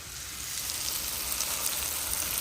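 A pan of tomato mixture sizzles steadily as a fried salmon steak is eased in for biryani, a close, even hiss with no talking.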